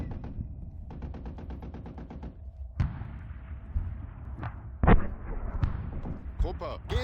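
An MG34 machine gun fires in a modded Arma 3 war game, with a quick rhythmic burst of rounds followed by scattered booming shots and thuds, and a voice speaks over the firing.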